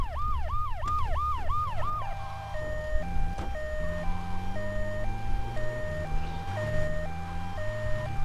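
An electronic ambulance siren in Grand Theft Auto 3 wails in fast rising sweeps, then switches to a slower two-tone hi-lo pattern over a low engine rumble.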